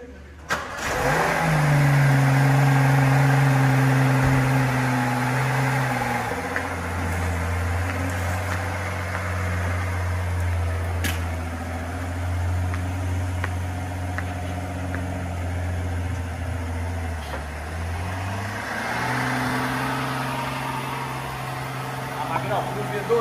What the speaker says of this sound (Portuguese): Eu vou ligar o carro, você vai ver como ele não faz barulho. É um V12, tá?